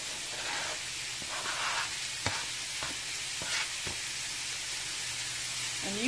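Peppers and onions frying with sausage in a pan for a breakfast casserole, a constant close hiss and sizzle broken by a few light clicks of stirring utensils.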